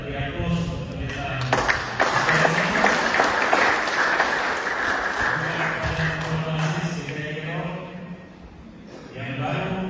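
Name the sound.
congregation applauding for the pastor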